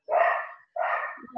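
Two loud, close dog barks, each about half a second long and separated by a short pause, heard alone with no talking over them.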